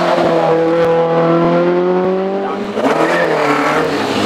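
A Peugeot 205 race car at the Shelsley Walsh hillclimb, its engine note rising steadily through the gears in a loud, close run, with a brief dip and then strong, rough acceleration near the end.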